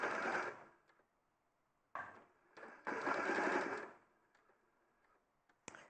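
Sewing machine stitching fabric in short bursts: a fast buzzing run, a pause, then two more runs, the longer one lasting about a second, with quiet clicks and taps between them.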